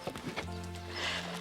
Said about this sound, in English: Clip Clop.